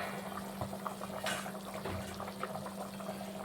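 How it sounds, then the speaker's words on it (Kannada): Water heats in a covered pot for veg pulao, a faint, steady bubbling and rolling simmer with a low hum beneath it. "ನೀರು ಕುದೀತಾ ಇದೆ ನೋಡಿ"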